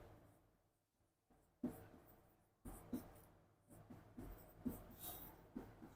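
Chalk or marker writing on a board during a Hindi-language English grammar lesson, heard as a series of faint scratchy strokes in short bursts, spaced irregularly, with no talking over them.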